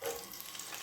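Masala for an Andhra-style fish curry sautés in hot oil, giving a soft, brief sizzle and frying crackle heard alone for under a second.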